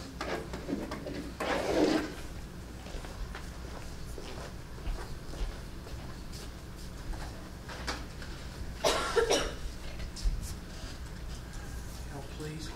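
A couple of short coughs in a classroom, around two seconds apart in the middle, sound over quiet room background with some talking nearby.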